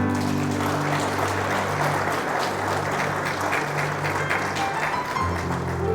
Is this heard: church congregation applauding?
yes